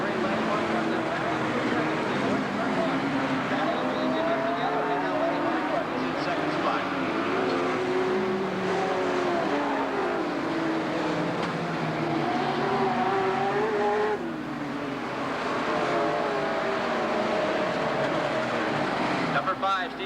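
Sportsman stock cars race around an EWSCA track, their engines roaring in a steady, dense drone, with an announcer talking over the noise throughout.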